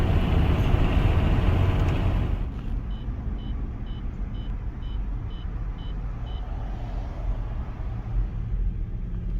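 Steady morning road traffic rumbles close by in a continuous wash of passing cars and trucks, with a short run of evenly spaced reversing beeps partway through and no one speaking.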